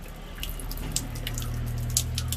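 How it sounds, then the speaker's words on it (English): Water trickling and dripping steadily as an aquarium siphon drains a tank with sand substrate, a continuous close wash with small splashes and a low hum underneath. "So this will continuously pull out water from your system, though you have a tap which you can use to stop it."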